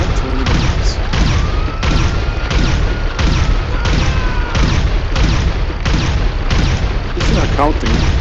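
Railgun shots strike a ground vehicle in GTA on PC, firing as loud, booming impacts roughly every half second to second in a rapid, repeated barrage, each blast sharp and close.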